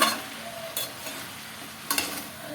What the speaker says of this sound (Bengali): বেশ কিছুক্ষণ ধরে এটাকে আমি নেড়ে নেড়ে কষিয়ে নেবো